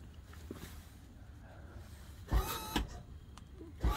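An HWH Spacemaker RV slide-room motor bumps the slide inward in short powered bursts, with faint whirring between and a few sharper mechanical knocks, moderately quiet and with no talk.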